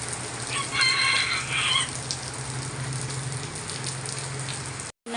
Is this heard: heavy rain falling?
yes